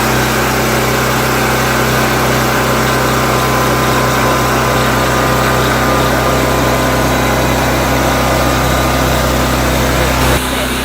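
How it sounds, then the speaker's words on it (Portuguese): A petrol generator engine runs loudly and steadily at close range, a constant droning hum with no change in pitch, then cuts out abruptly near the end. "se a gente quiser usar o gerador, a gente vai precisar de um lugar que seja um pouco mais silencioso"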